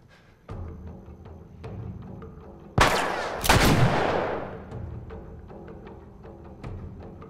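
Gunfire in the game The Last of Us, a few sharp loud shots including a big booming blast with a long decaying echo, among quieter thuds and clicks.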